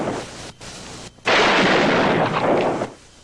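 Pistol shots in an Old West gunfight: two sharp cracks, then a loud booming blast that rolls on for about a second and a half before cutting off.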